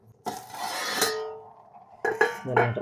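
A metal pot of jackfruit curry is checked while cooking, with a clanging lid or utensil strike that rings out, followed by further close metallic clinks and scrapes.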